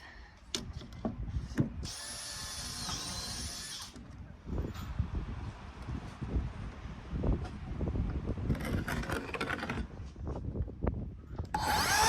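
Wood boards are cut to length for a van bench seat and toilet box build, with loud, close power-saw bursts biting through the wood, separated by short pauses and lighter handling noises.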